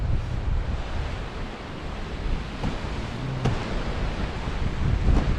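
Strong wind buffets the microphone in a constant low roar on a coastal trail at Eyemouth, with the wash of surf faintly underneath.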